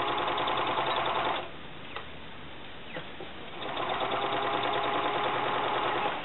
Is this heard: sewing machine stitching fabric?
yes